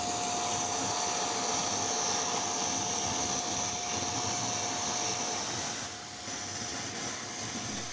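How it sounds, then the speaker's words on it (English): A hoover vacuum runs steadily, sucking out a radiator cap on an old vehicle that was sunk and abandoned for years; a continuous broadband whine with a steady tone, loud and close, dipping briefly near the end. "I think what we'll probably do is get the hoover on it, scrape it out"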